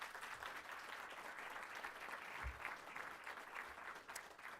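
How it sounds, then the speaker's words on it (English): A small audience in a meeting room at the opening announcement for the Classic Center Arena claps for commissioners, soft and distant-sounding steady applause. "Let's give them a quick round of applause."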